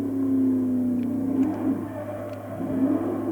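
The Daytona Charger in Forza Horizon 2 growls with a deep, loud engine note, holding a steady drone and then swelling and easing through revs, with no voices over it.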